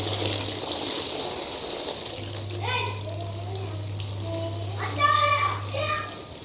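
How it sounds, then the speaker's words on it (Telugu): Water gushes steadily into a new inflatable swimming pool, with children's voices and chatter over the flow. "చూడొచ్చు మీరైతే వాటర్ వస్తున్నాయి"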